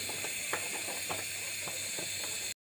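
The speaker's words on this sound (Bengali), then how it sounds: "লোহার চুলায় তেল দিয়ে" Oil hisses steadily as it goes into a hot iron pan, a constant close sizzle with faint crackles and pops scattered through it, and no voices.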